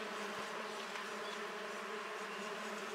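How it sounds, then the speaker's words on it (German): Wild bees swarm on a calm, sunny day, a steady dense buzzing hum like the area in front of a hive, continuous and fairly close with no talk. "und dann haben wir hier eine Geräuschkulisse wie vor einem Bienenstock"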